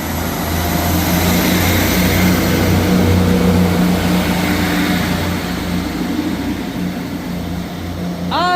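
A ScotRail train arriving at Edinburgh Haymarket station, a loud, steady low engine drone and rumble that stays close throughout, with a brief high squeal near the end.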